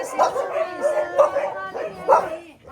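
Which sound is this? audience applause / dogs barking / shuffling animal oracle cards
dogs barking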